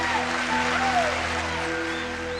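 Applause from a crowd in a Telugu movie scene: a dense, steady wash of clapping held at an even level, with faint sustained musical tones underneath.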